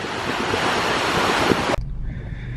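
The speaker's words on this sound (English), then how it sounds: "Waves are kind of big today." Big waves on Lake Superior give a loud, continuous rush of surf and wind buffeting, which ends abruptly, leaving a low hum.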